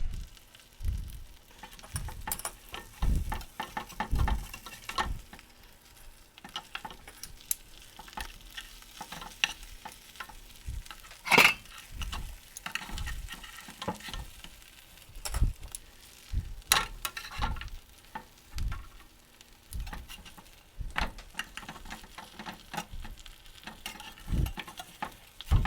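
A brisket grilled cheese sandwich frying in a pan makes a soft, steady sizzle with frequent pops and crackles, plus occasional clicks and clunks over about 26 seconds.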